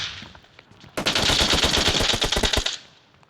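Rapid volley of in-game gunfire in PUBG Mobile, from a shotgun-only match, bursting in loud and dense for about two seconds of repeated close shots after a quieter opening, then cutting off.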